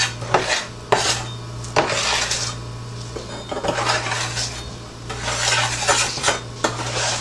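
Baked Toll House cookies being slid off a metal baking sheet, with a run of scraping, clinking metal sounds and short rubbing strokes, fairly close and loud, over a steady low hum, no talking.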